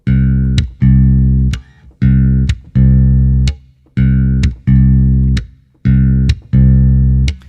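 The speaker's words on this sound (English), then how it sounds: "be familiar with sort of the tone of the string hitting or being near the pickup" An Ample Bass P software bass plays a repeated, sustained low riff with clicky percussive attacks from the strings slapping against the pickup, loud and clean with short gaps between phrases.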